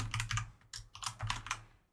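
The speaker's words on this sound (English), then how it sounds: "More typing" Close, moderately quiet typing on a computer keyboard during C++ programming work, with rapid clusters of key clicks separated by short pauses and fading at the end.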